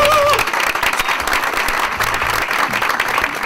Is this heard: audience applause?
yes